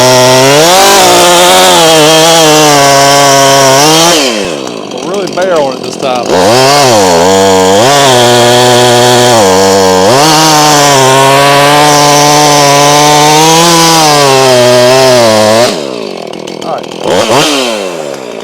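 Stihl MS362C chainsaw fitted with a barkbox muffler cutting wood, very loud sustained engine whine that dips and revs under load, with brief idle drops between cuts.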